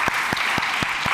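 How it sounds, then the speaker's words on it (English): Applause from the audience at a World Government Summit panel session, a steady wash of many hands clapping at close range. A few louder individual claps stand out at regular intervals. "please, a round of applause to our panel."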